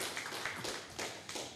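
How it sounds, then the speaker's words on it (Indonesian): A small crowd claps for the production team at an Indonesian talk show, a steady patter of applause with no talk over it. "Tepuk tangan buat tim produksi dulu."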